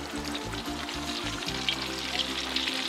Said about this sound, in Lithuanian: Aliejų įkaitus sudedam 200 gramų pakelio sviesto ir duodam